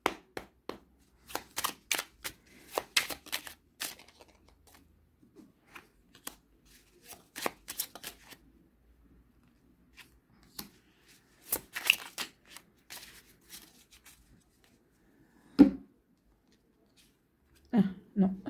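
A deck of Merlin oracle cards being shuffled by hand at close range, quiet bursts of crisp riffling and flicking separated by pauses, with occasional soft speech between.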